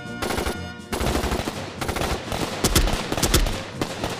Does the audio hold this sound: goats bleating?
no